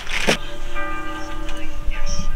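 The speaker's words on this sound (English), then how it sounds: "The bells are ringing out there, aren't they?" A church bell in France tolls with lingering ringing tones, heard at moderate distance amid faint background noise and a brief voice.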